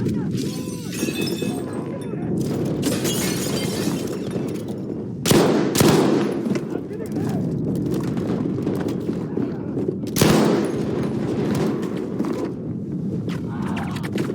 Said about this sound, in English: There goes Greasy taking down Marbo with that P-hit again, coming up the backside, shooting him up the freckle.